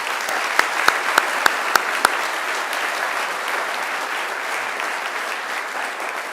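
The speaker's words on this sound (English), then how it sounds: "Please give Angela another great round of applause." Sustained applause from a graduation ceremony audience in a hall, steady and dense throughout, with several sharp loud claps standing out near the start before the clapping evens out.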